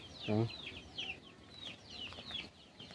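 Chickens clucking nearby, one loud low cluck followed by a series of short chirpy calls, with faint outdoor background.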